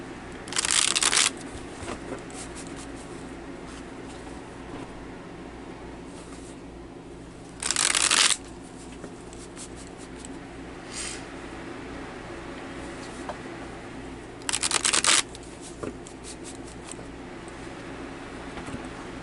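Tarot cards are shuffled in three distinct bursts of quick riffling, close and crisp, separated by long stretches of quiet room tone with a few soft handling clicks.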